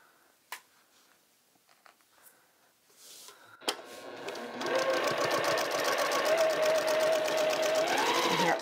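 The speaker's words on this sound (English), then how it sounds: "I'm just going to sew right here." A sewing machine stitches quilting fabric cowls after a few faint handling clicks, its motor starting with a sharp tap and then running steadily and fairly loud for the last four seconds.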